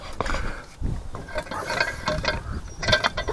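Ratchet clicking and metallic tool noises as suspension bolts are undone from underneath a Land Rover Discovery 2 during a lift kit fit, steady close-up mechanical rattling with short pauses.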